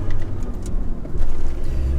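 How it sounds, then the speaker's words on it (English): A Toyota Landcruiser 80 Series with the 1HD-T turbo diesel engine idles steadily while warming up, a low continuous rumble heard close by with no voices. "is we're warming up the engine"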